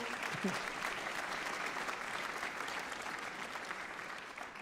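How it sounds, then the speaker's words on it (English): A community band's audience applauds its new president in a steady, even wash of clapping from many hands that carries on for several seconds at moderate loudness. "Can you all just give a round of applause to our new president, Becky"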